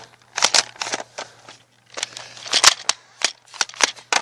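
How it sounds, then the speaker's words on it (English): A Nerf blaster being cocked, a string of sharp plastic clicks and rattles at close range, irregular and bursty, repeated over several seconds with short gaps between. "I gotta cock my gun."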